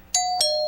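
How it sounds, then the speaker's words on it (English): Two bright ding-dong chimes ring out in quick succession, the second tone lingering and fading; clear and close with no voices. "Ring the bell."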